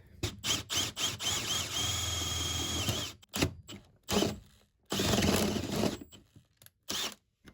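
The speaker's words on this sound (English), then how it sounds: "I'm just going to drill through and see what happens." A power drill whirs in short, intermittent bursts as it bores through plywood, separated by brief pauses.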